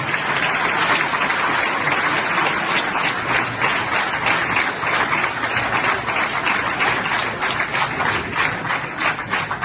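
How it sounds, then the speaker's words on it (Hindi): Sustained applause from an audience, dense and steady clapping that fills the whole stretch without pause, fairly loud and close, with no talk over it. "तो पाकिस्तानियों के लिए हम सबको ताली बजानी चाहिए।"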